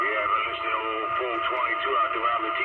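CB radio receiving transmissions on channel 11, a band-limited voice crackling through a small handheld-style set in a ham shack, steady and close for a few seconds.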